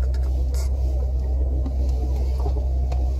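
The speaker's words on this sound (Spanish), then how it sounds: "Creo que estos son unos coches." Steady low engine rumble from cars on a forest road at night, a continuous drone that holds level throughout with no clear pass-by peak.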